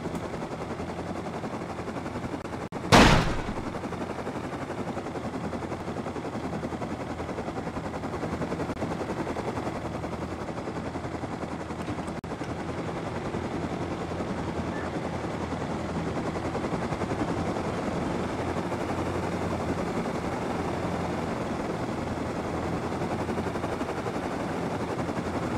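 A single loud burst of turret gunfire cracks out early in a video game outpost, followed by a steady, droning helicopter-like rumble that continues alone for the rest of the stretch.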